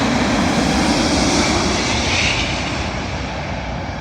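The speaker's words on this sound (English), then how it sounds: "Arriving in now is a Boeing 787 Dreamliner with British Airways, terminating at London Heathrow." A British Airways Boeing 787 Dreamliner landing at London Heathrow, its engines a loud, steady broadband roar that stays close and even throughout.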